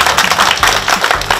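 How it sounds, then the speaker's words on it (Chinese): Fans applauding at a crowded shop opening for former baseball player Lin Yi-tseng joining a real estate agency; dense, steady clapping close by, filling the short moment without a break. "掌声鼓励。"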